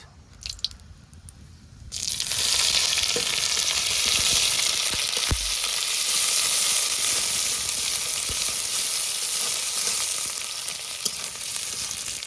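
Onions frying in a pan, with cumin and bay leaves in the oil: after about two seconds of quiet, a loud, steady sizzle begins and holds to the end, broken by a few faint clicks from stirring.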